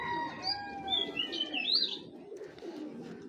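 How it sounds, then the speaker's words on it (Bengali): Male racing pigeon calling with soft coos and chirps amid other birds nearby, a mix of thin high twitters over low cooing murmurs, moderately quiet and continuous. "এটা হলো নর কবুতর।"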